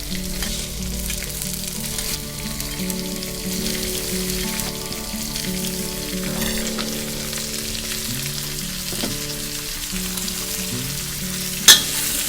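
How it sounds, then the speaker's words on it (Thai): Chopped shrimp sizzle and crackle with chilies in a hot pan while being stir-fried, a steady frying hiss with occasional scraping and a sharp clank near the end. "กุ้งเนี่ยเราจะใช้เวลาผัดไม่นานนะคะ"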